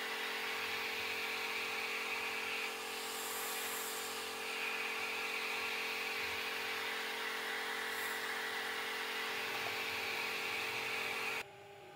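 An Ortur LaserMaster 2 laser engraver with a strong air pump works on coated aluminum, giving a steady, fairly quiet mechanical hum and whine with small shifts in tone that stops abruptly at the end.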